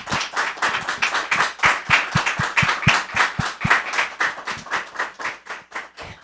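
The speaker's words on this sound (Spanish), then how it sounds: "muchas gracias y un aplauso" An audience applauds at a university award ceremony, a steady burst of many hands clapping close and loud for several seconds without any talk over it.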